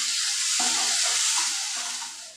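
Lote fish fries in a wok, a loud steady sizzle with intermittent stirring scrapes and knocks that fades slightly toward the end.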